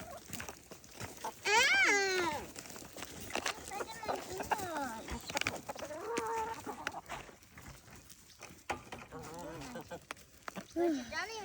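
A flock of chickens, including a rooster, eats morning feed from a tray, with busy overlapping clucks and squawks up close. People talk among the birds throughout.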